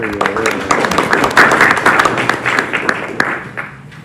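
Audience clapping at an evening spirituality talk in Newman Hall: a steady, loud round of applause from a crowd, many hands patting quickly and unevenly before tapering off toward the end.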